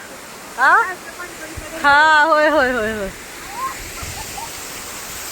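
A waterfall in a misty mountain pass roars as a steady broadband rush throughout, while voices call out and chatter excitedly over it.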